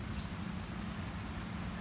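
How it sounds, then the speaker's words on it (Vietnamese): Heavy rain falls during a storm, a dense, steady hiss of drops close by with no breaks. "Nước mưa quá trời."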